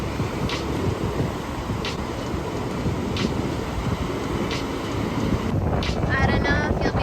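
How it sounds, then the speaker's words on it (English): Strong wind buffets the microphone at coastal tide pools, a steady loud roar with a rushing gust building near the end. "I don't know if you'll be able to hear me over the wind"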